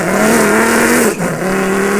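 A voice imitates a Porsche Cayenne engine revving: a sustained, nasal engine-like drone held for about two seconds, briefly dipping in the middle before resuming, loud and close with no other talk.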